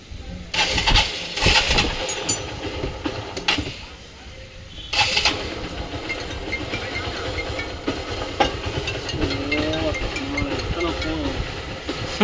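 Hero Hunk motorcycle engine, freshly rebuilt, cranks and catches with a few loud bursts, then settles into a steady close idle rumble while people talk nearby.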